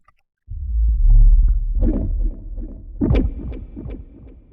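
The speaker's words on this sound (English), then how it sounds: "It's got driver, some reverb, and then some delay." A processed, distorted sound effect with low rumbling swells and smeared echoes trailing off, heavy reverb and delay throughout, loud and up close.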